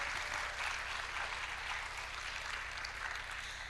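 A large audience at the Hans Christian Andersen Awards ceremony of the 38th IBBY World Congress applauding, a dense, even wash of clapping from many people sustained throughout.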